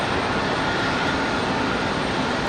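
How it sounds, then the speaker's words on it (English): A steady, loud wash of broadband jet roar from a Boeing Dreamliner departing Raleigh-Durham airport, unbroken through the short stretch with no voices. "On to the Dreamliner departure."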